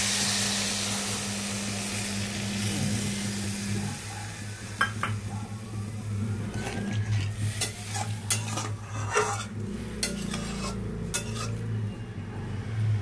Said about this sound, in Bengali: এই যে জলটা এখানে দিয়ে দিচ্ছি